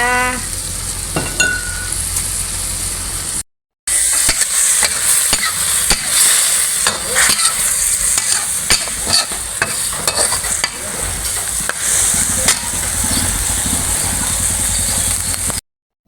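Thai holy basil stir-fry (pad kaphrao) in a pan over a gas flame: steady loud sizzling under repeated scraping and clanking of a spatula against the pan, close up, with a brief gap early on and no talking.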